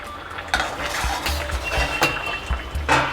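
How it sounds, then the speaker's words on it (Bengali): Chhana fritters dropped into simmering curry in a pan for chhanar dalna, a series of clattering spoon-and-pan knocks and clinks over a soft bubbling sizzle, several distinct hits spaced through the clip. "এবারে আমি ছানার বড়াগুলো দিয়ে দিলাম।"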